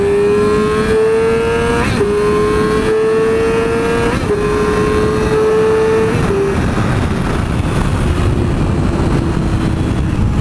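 A Yamaha motorcycle engine revs loudly and steadily close by, its pitch climbing and dropping back in a few repeated surges like quick gear shifts, then settling into a lower drone under wind noise.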